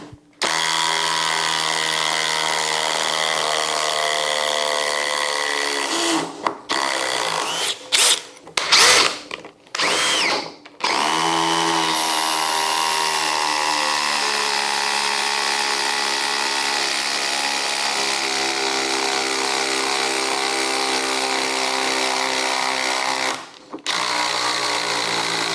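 A DeWALT DCF870 oil impulse driver drives a screw, a loud close high-pitched whine held steadily for long stretches, broken near the middle by a few short bursts and stops, then resuming evenly.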